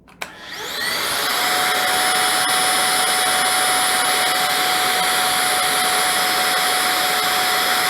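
A Holife cordless vacuum starts up and runs steadily on its low setting, a loud, even whine with a sustained high-pitched tone, alone and close by.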